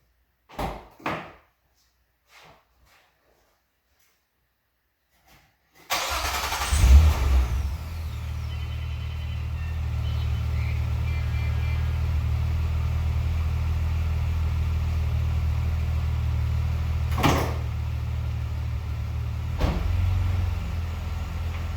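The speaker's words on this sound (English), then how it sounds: "I'll start the car." A 2005 Nissan Maxima fitted with an HPS short ram intake: a few faint clicks and thumps, then the engine cranks and catches with a brief rev before settling into a steady, close, rumbling idle that continues to the end.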